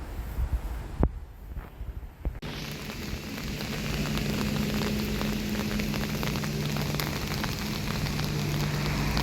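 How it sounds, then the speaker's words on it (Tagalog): Rain falls at a bus station in Spain, a steady hiss of drops on hard surfaces that thickens after a brief quieter moment near the start, constant and fairly close with no talking. "umuulan ngayon"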